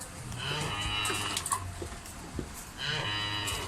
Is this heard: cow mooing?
yes